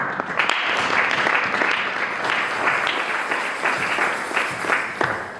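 A church congregation applauds with sustained, even clapping from many hands that fills the whole span at a moderate, roomy level.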